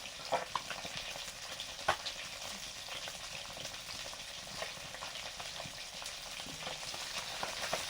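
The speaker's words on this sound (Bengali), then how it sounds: "মাছগুলো ভাজা চলছে।" Fish frying in a pan for a home-cooked fish curry with tomato and kohlrabi, a steady close crackling sizzle running throughout with a few sharper pops and occasional faint utensil scrapes.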